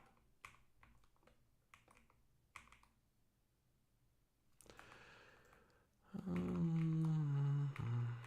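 Light clicks of typing on a computer keyboard come in short sparse bursts, faint and close, before a loud sustained tonal noise takes over near the end.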